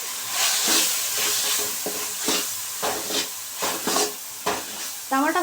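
Food sizzles and fries in a pan with repeated scraping stir strokes, the sequence building toward a dish of chicken gravy; the close, steady frying is broken by rhythmic clatter as a utensil works through the pan, with no talking.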